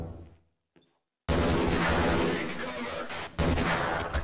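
Loud, dense gunfire from an assault rifle while shooting a marine in the first-person shooter Half-Life, bursting in after a brief quiet and continuing as sustained rapid fire with a short dip before resuming.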